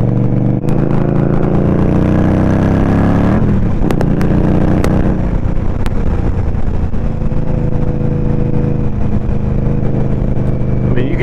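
A 2023 Indian Scout motorcycle accelerates hard, its engine note loud and close, climbing and shifting through gears in one continuous roar with a brief rev change partway through, no voice over it.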